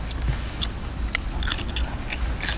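Close, wet chewing and crunchy bites of a spicy Thai beef salad with toasted rice, heard over a steady low rumble of background noise, with a few sharp crisp bites standing out.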